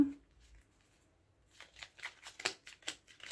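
Tarot cards being shuffled, with cards jumping out of the deck, make a burst of quick, crisp papery riffles and flicks after a second of near silence, close and fairly soft, in an uneven rapid rhythm.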